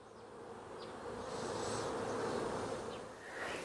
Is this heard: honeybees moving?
yes